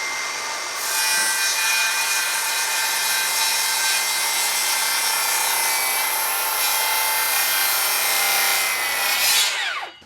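A circular saw cuts freehand through timber for valley rafter supports on a stud wall roof build. One long, loud, continuous whining cut runs for about nine seconds before winding down, with no talk.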